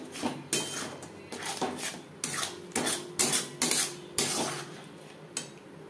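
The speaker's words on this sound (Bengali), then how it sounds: "এভাবে নাড়াচাড়া করে দিতে হবে," Mashed green banana peel is stirred in a wok with a spatula, making repeated scraping and rasping strokes in an uneven rhythm. The strokes are close and fairly loud, with no talking.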